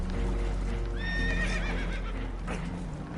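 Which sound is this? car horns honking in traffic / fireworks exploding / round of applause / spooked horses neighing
spooked horses neighing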